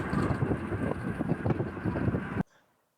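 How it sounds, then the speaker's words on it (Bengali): Strong wind buffets the microphone outdoors on the Meghna bridge above the river, a loud, steady roaring rumble that runs continuously for over two seconds and then cuts off abruptly into near silence. "বাইরে অনেক বাতাস, চুলগুলো এলোমেলো হয়ে যেতেছে"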